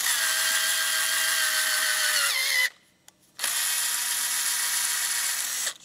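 Power tool cutting oiled threads into an MG engine block: a steady, close, high whine that stops briefly, then runs again at the same pitch, with no talking.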